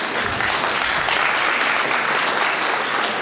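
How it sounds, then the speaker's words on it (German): Steady, dense applause from a large audience greeting a young woman, Dresden's 24th Stollen Girl, as she walks on stage at a Dresden event, loud and continuous without a pause. "Ich bitte um einen kräftigen Applaus."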